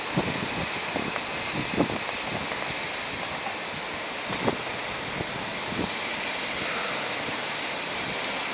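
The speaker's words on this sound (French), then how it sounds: "Le vent souffle aujourd'hui." Steady wind rushes and hisses outdoors, a constant broadband roar with occasional soft gusts and no voices.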